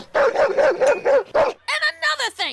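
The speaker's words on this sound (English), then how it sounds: "we don't deserve to be barked at like that" A cartoon dog barking in a rapid series of about six loud, close barks, followed by animated character voices talking.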